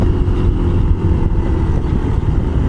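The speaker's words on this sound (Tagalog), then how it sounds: "Nagmamadali talaga itong pickup truck sa likod natin eh." Pickup truck speeding along a hilly road to Tagaytay, heard as a loud, steady engine and road roar that stays close and constant throughout, with no talking.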